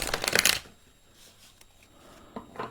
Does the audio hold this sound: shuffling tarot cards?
yes